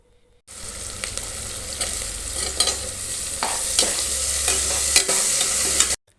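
Green chilies and ginger garlic paste fry in a pan for chicken biryani, giving a steady broadband sizzle with occasional stirring scrapes and clicks, close and fairly loud with no talk.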